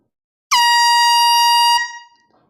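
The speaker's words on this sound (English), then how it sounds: "Jill, I blew an air horn." A single loud, close air horn blast at a live vinyl record sale, a bright brassy tone held for about a second before cutting off and ringing out briefly.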